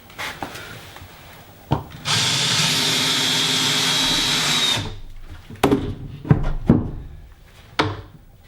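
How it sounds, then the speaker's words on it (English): A power drill drives a screw through a small wooden block into the floor, one loud steady whir lasting a few seconds, followed by scattered knocks and handling noises of wood and tools close by. "I'm screwing a small block onto the floor"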